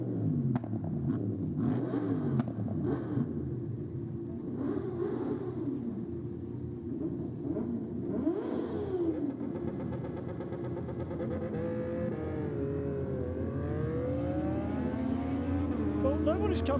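Race bikes howl around the track at a drag racing event, engines rising and falling in overlapping sweeps as machines pass, with continuous loud rumble and announcers talking over it.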